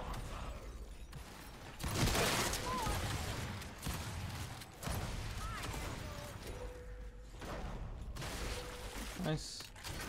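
Gunfire in the video game Gears 5 during a ranked Control match, with bursts of shots and mechanical clatter running through the clip under constant in-game noise and voice chat.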